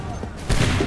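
A musket volley fires in Assassin's Creed III, a sudden loud crackling burst of many guns at once about halfway through, rolling on briefly after a quieter lead-in.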